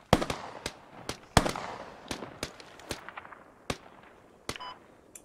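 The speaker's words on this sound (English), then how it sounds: "That's them engaging now. Shooting at you" Enemy gunfire in the tactical shooter game Squad, fired from suppressed weapons at the player's position: a string of sharp, irregular shots, some close and loud, others fainter with trailing echoes, and no talking.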